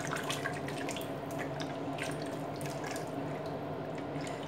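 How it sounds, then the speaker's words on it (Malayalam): Hot water pours steadily into a pressure cooker for chicken biryani, a continuous splashing stream running unbroken with no voices. "4 കപ്പ് വെള്ളം ഞാൻ ഇതിലോട്ട് ഒഴിച്ചു കൊടുക്കുക"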